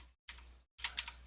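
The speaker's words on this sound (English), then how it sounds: "So I'm going to type selected entity dot selection sound" Two short bursts of clicky keystrokes on a computer keyboard while someone types code, quiet and close, separated by silent gaps.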